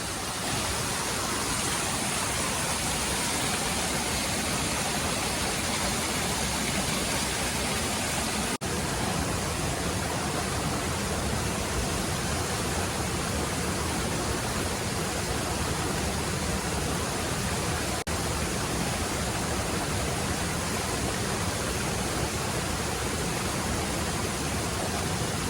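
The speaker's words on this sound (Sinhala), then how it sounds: "අන්නේ මේ වතුර පාර" Water rushes steadily at Laxapana waterfall in Sri Lanka, a loud, dense, unbroken roar of falling water that fills the whole scene from start to finish.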